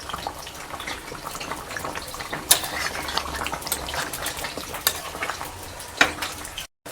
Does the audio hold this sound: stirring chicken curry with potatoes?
yes